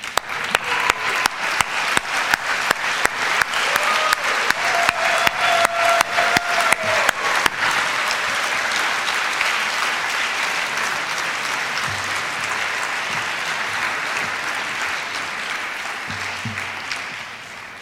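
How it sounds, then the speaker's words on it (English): A graduation ceremony crowd claps loudly, starting with a steady rhythmic beat for several seconds before breaking into a sustained, dense wash of applause that slowly fades. "give them a big round of applause"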